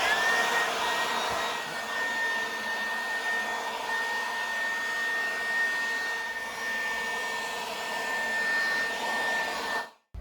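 A 20V cordless leaf blower running on its high speed gives a steady, close, loud airy roar with a thin whine on top for about ten seconds, then cuts off abruptly.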